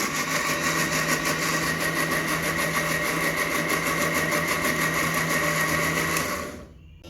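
Close and loud, a kitchen mixer grinder whirs continuously, grinding lentil paste for homemade vada with a steady motor hum that stops abruptly near the end.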